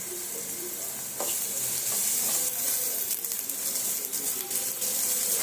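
Chopped onion and capsicum (shimla mirch) sizzle steadily in a hot pan, a dense continuous hiss with occasional faint stirring clatter, close and loud with no talking.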